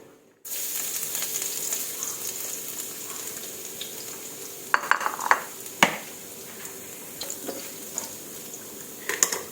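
Garlic frying in a pan while cooking a stir-fried bamboo shoot and egg dish, with a steady sizzle and occasional utensil clinks and scrapes against the pan.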